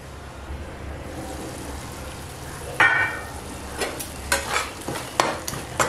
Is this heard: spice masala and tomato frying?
yes